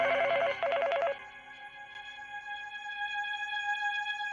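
A telephone rings with a quick warbling electronic trill in two short bursts, followed by a sustained steady tone that hangs on for several seconds, fairly quiet in an otherwise still room.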